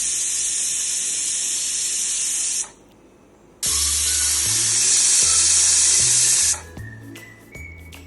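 Pressure cooker on a medium-flame stove, cooking Telangana-style mutton curry, lets out long, loud hissing whistle bursts of steam, with a short pause between two blasts and a softer fading release at the end.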